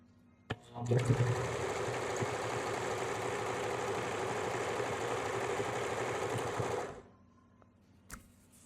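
A domestic sewing machine runs at a steady speed for about six seconds, a loud, even mechanical whir and rattle that starts abruptly and cuts off, followed by a quiet click.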